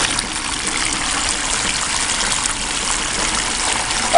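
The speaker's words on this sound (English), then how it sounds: "the sheet of water going down, falling down there" Pumped water rushing in a steady sheet down a Gold Cube gold-mining sluice and splashing into a bucket, a loud, close, continuous gushing trickle with no pauses.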